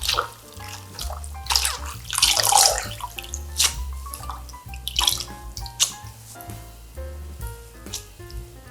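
Soaked wakame seaweed is rinsed by hand in water, giving close, irregular splashes, sloshes and drips that rise and fall in repeated bursts.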